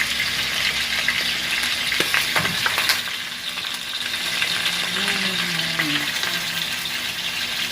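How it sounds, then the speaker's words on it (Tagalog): Food deep frying in hot oil, a steady loud sizzle and bubbling hiss throughout, with a few clinks and stirring sounds near the start. "Dapat deep fried talaga yun."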